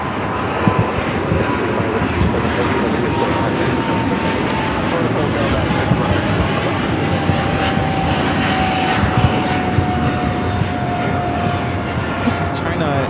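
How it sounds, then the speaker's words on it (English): A China Airlines Boeing 777 freighter takes off at Los Angeles International Airport, its engines a loud, steady roar with a faint rising whine, while a person talks over it. "This is China Airlines cargo flight 5137 taking off to Taipei on the 777 freighter."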